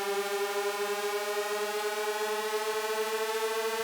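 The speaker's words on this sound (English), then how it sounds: "the last major thing is kind of this outro riser" A sustained, buzzy synthesizer riser tone of layered saw waves and a triangle wave, rich in harmonics, holds steady with a faint pulsing wobble, playing alone.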